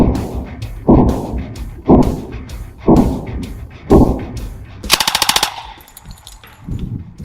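An American World War II machine gun fires at downrange targets outdoors in four short, heavy bursts about a second apart, then a fast rattling string of rapid shots, loud and close with no talk.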